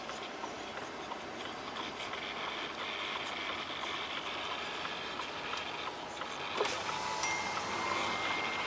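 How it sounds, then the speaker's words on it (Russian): A Volvo truck idles and reverses, a steady low engine drone with faint repetitive ticking over it and a brief sharp knock near the end, heard from inside the cab at moderate level. "Отсюда вот сейчас задним ходом буду заруливать."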